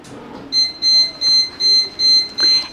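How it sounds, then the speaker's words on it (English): A bread machine beeping: six evenly spaced, loud electronic tones in a steady rhythm, each a short sustained beep, with faint room noise between them. "bread machine's gonna beep for a few seconds"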